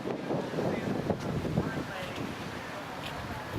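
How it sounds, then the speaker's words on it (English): Outdoor wind buffets the microphone in steady low rumbling gusts, fairly quiet, with a faint murmur of distant voices in the background. "It's kind of windy here."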